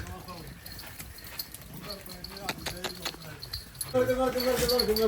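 Hooves of white Beetal goats clatter in a quick burst of sharp taps as they run back in the rain, amid outdoor noise, with voices rising toward the end.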